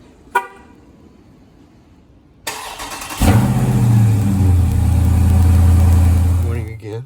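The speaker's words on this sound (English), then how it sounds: "It has been sitting in the garage all night, so I figured I'd give y'all a nice little cold start." A 392 engine cold-starting in a garage after sitting overnight: a click, a whirring crank, then the engine catches and settles into a loud, deep, rumbling idle close by, with a brief horn-like toot early on.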